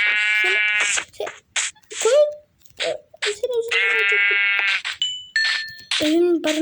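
Repeated sheep bleats in the oldest version of Minecraft, wavering and nasal, come in several bursts with electronic game tones mixed in, fairly loud and close.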